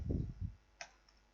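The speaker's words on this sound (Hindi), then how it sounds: "पेस्ट पर क्लिक कर देनी है।" A single sharp computer mouse click during CorelDRAW editing, heard alone after a short burst of low voice, followed by a fainter second tick.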